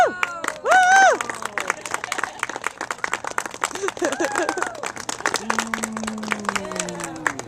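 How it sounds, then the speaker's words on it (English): A live audience at a Renaissance-fair magic show claps loudly and fast, with whoops, cheers and voices mixed through the dense applause. "The idea is you clap all loud when Mr. Magic does a trick"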